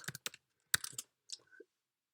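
Keys clack on a computer keyboard while setting up a Raspberry Pi web server, a few quick bursts of crisp close clicks separated by short pauses, with a faint short voice sound near the end.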